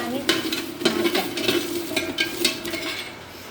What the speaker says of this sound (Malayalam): ചക്കക്കുരു നന്നായി വറുത്തെടുത്തു.